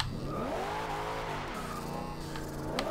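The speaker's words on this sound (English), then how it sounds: "second gear, hard on the throttle, a lot of wheel spin" A 2015 Dodge Charger R/T in Forza Horizon 2 accelerates hard in second gear with wheel spin, its engine rising and dipping in pitch as revs climb, loud and close throughout.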